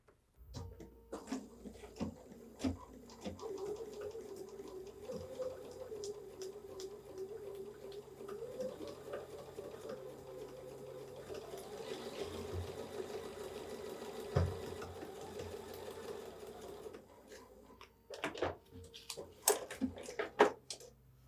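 A sewing machine stitching along a drawn line for foundation paper piecing, a steady mechanical whirring hum for about fifteen seconds, quiet and close, followed by a few clicks and handling noises.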